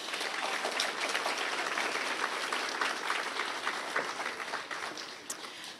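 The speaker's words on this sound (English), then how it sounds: "let's give these girls another round of applause" Sustained applause from a crowd at the 2025 Fayette County Fair Queen Contest, steady clapping that fills the space and tapers slightly toward the end.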